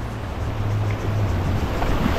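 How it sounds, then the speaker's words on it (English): Ocean waves at Maracas Beach, Trinidad, churn and wash continuously beneath gusty wind and a low engine-like hum, with no talking. "It's quite a few waves."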